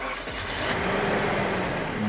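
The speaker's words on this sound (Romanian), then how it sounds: "Hai să vedem să aude un V8 din 1990" A stock 1990 Mercedes-Benz 560 SEL V8 cranks and fires up, a brief starter whir giving way to a steady rumbling idle heard up close.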